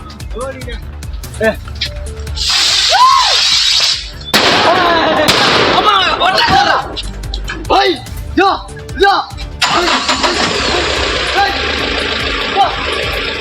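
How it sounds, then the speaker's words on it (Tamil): Firecrackers are set off to drive a wild elephant back into the forest. Several sharp bangs and crackles ring out, mixed with engine noise, under someone talking throughout. "பட்டாசுகளை வெடித்து யானையை வனத்துக்குள் விரட்டும் பணியில்"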